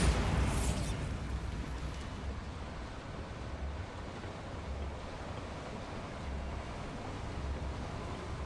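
A Bombarda blast spell in a Harry Potter video game, a loud burst at the start that decays into a long, low rumbling wash of debris and ambience, with no talk.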